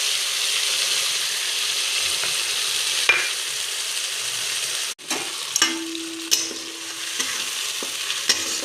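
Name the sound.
bay leaf and cumin seeds frying in hot oil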